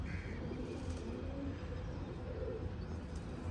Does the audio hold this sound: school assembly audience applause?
no